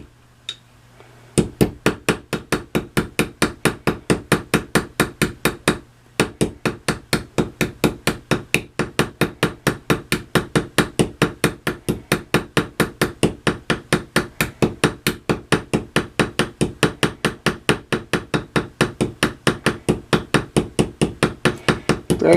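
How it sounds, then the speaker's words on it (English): A heavy 8-pound hammer taps steadily at a razor pin set in its scales, a long run of evenly spaced, sharp metallic strikes repeating about three to four times per second with one brief pause near the start, close and loud. "a lot of guys use like a 4-pound hammer. This is an 8-pounder"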